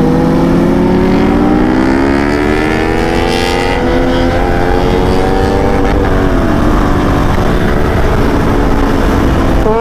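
A Kawasaki Ninja 400 motorcycle fitted with an SC Project exhaust revs very loudly and close by, its raspy engine note climbing and sagging in pitch over a continuous roar, with no speech.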